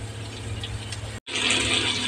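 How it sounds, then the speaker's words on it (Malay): Water being poured into a pot while cooking chicken curry without coconut milk, a soft steady splashing pour that briefly cuts out and then resumes slightly brighter. "Ni kita tambah air lagi."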